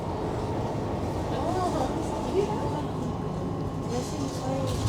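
A Sheffield Supertram tram train runs with a steady rumble and faint squeals, heard from inside near the front seats.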